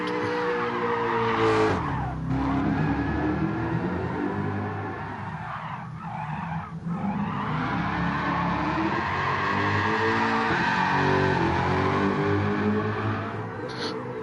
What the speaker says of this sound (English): That was a nice drift.